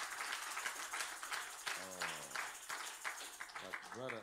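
Church congregation in Kampala clapping for the Lord after a sermon, a dense, steady wash of applause running throughout, with a voice speaking over the clapping partway through.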